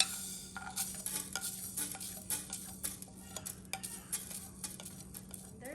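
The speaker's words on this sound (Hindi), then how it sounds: "अब हम डालेंगे सबसे पहले करी लीव्स, ज़ीरा और मस्टर्ड सीड्स" Curry leaves, cumin seeds and mustard seeds land in a hot pan and start to crackle, giving faint scattered pops and ticks over a quiet, low sizzle. No voices can be heard.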